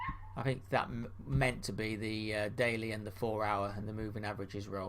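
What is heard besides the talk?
dog barking at the door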